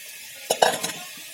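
Fried wild shik mushrooms being stirred in a pot, heard as a quick cluster of two or three close utensil scrapes with a light sizzle, set against a quiet background.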